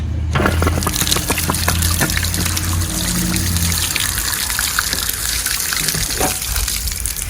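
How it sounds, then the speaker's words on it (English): Hot water gushing out of a Gulfstream camper's water heater drain once the plug is pulled, a steady loud splashing stream that continues throughout, with a low rumble underneath during the first half. "So you'll see the water start to come out as I remove the plug."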